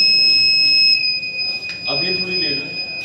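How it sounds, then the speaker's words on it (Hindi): A farm animal-intruder alarm rings with two steady high electronic tones held throughout, while people talk nearby and a brief clatter sounds midway. "ये जानवर अगर आ रहा है तो अलार्म किसान के घर में बजेगा"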